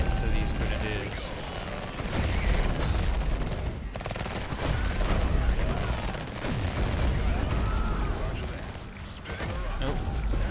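Gunfire and explosions from a Tempest Rising real-time strategy battle crackle steadily, with bursts of shots and booms layered under ongoing speech.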